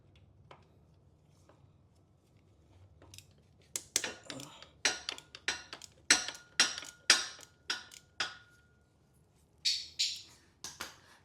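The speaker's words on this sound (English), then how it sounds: "My bird is on the back making noise." Pet bird squawking behind someone disassembling a 2010 Mini Cooper S engine: after a quiet start, a rapid series of sharp, loud, harsh calls in clustered bursts, with a brief pause partway through.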